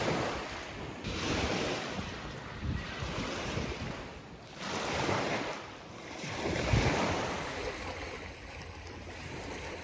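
Surf washing onto an Ontario lake beach, with broad swells of wash rising and falling in steady waves and wind rumbling across the microphone; no talking.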